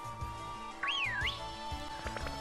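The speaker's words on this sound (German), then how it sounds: "Wir pfeifen mal." A single short whistled tune rises and falls in the Pokémon Shield video game, a bright swooping call heard alone over soft background game music.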